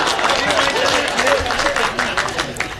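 Applause rises from the audience at a Hindi comedy poetry gathering, sustained clapping mixed with crowd murmur throughout.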